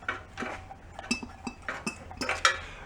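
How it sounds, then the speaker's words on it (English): A hand oil can squirts motor oil into the cylinders of an old barn-stored VW Bus engine, its pump giving a run of sharp metallic clicks and clinks at an uneven rhythm, close and fairly loud. "Give a couple of shots of motor oil in each cylinder"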